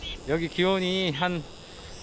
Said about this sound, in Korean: 매미 소리 들리시나요?